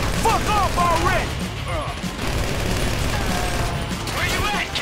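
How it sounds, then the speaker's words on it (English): Gunfire in the GTA 5 video game, scattered bursts and pops mixed with a voice speaking over the action, moderately loud against a busy background. "You hear that gunfire?"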